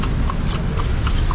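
Horse hooves clip-clopping on concrete streets in Manila, a steady quick rhythm of hard, close hoofbeats over continuous loud road noise, with no talk.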